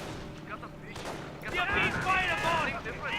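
Gunfire and shell hits on a Panzer IV tank in Company of Heroes, muffled bursts and impacts rising in intensity over a busy battle din, with a commentator talking over it.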